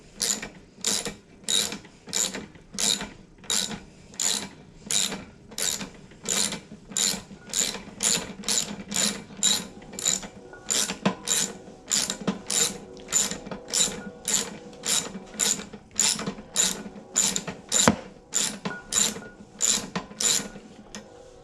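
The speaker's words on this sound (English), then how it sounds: "you take off the 3/8 bolt." Ratchet wrench loosening the 3/8 bolts on a Briggs and Stratton carburetor, a steady run of close, crisp clicking bursts repeating roughly every second, with no speech.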